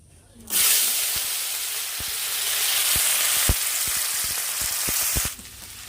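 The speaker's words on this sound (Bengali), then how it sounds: "মাছ ভাজা তেলের মধ্যে আর একটু তেল দিয়ে দিচ্ছি শাক ভাজার জন্যে প্রথমে রসুন দিয়ে দেবো" Garlic hits hot oil left over from frying fish in a wok and bursts into a loud, steady sizzle lasting about five seconds, with scattered utensil clicks, before cutting off.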